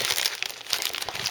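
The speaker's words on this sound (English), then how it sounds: "Although everything's in a plastic bag." Clear plastic bags holding the sprues of a 1:72 Academy F-22A Raptor model kit crinkle and rustle close up, in quick irregular crackles with no one talking.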